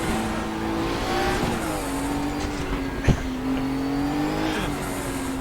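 Race car engine in the RaceRoom game on a virtual hillclimb, a steady buzzing drone that rises and falls with gear changes, with a single sharp knock partway through.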